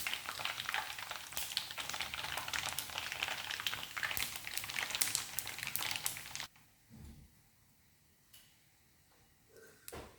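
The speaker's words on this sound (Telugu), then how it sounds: "అలాగే మిగిలిపోయిన సేమియాను కూడా ఆయిల్లో వేసుకొని ఫ్రై చేసుకుందాం." Thin vermicelli (semiya) fries in hot oil with a dense, steady sizzle for several seconds, then the sound cuts down sharply to quiet, with only faint crackles and small bumps after.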